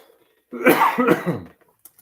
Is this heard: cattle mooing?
no